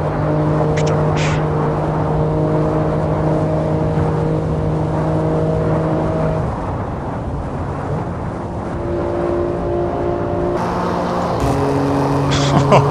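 A BMW M3 G80 cruises at speed on the Autobahn, its engine droning loud and steady with shifting tones, dipping briefly before building again, with a few sharp crackles near the end.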